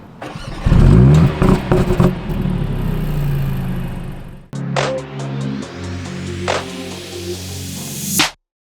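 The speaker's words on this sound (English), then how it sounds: "hold down one of the paddles here and then start up, you get what they call AMG Emotion Start" A Mercedes-AMG car with a performance exhaust starts with its valves open, giving a loud cranking catch and a rising rev, followed by a second start where sharp pops and bangs crack out over a settling idle before cutting off.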